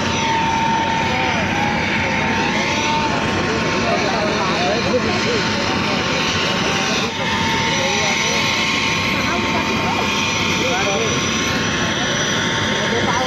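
A helicopter runs at the Giraudpuri fair, its engine and rotor making a loud, steady, continuous drone that barely changes over the whole stretch, without clear talking.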